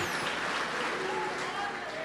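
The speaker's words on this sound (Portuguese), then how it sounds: "Vamos aplaudir a Jesus" Congregation clapping in a church service, a dense steady patter of many hands filling the room for about two seconds, with voices mixed in.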